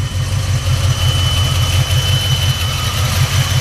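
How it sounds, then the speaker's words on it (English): A 1968 Chevrolet Camaro SS big-block V8 with turn-down exhaust idles close by, a steady deep rumble that holds an even, moderate loudness with no voices over it. "Nice running little big block."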